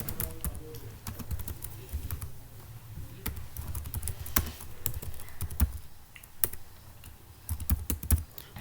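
Java code is typed on a computer keyboard, irregular clusters of close, crisp key taps with short pauses between bursts and no talking.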